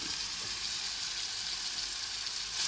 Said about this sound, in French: 2 oignons et 4 cuillères d'huile d'olive. Et là, je vais les faire suer, rendre leur jus à feu doux